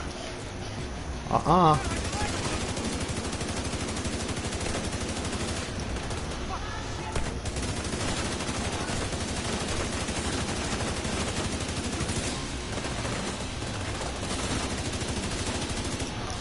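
Rapid, continuous automatic gunfire in the video game The Division 2 during a raid, a dense, steady barrage running almost the whole stretch at loud level, with a voice briefly heard near the start.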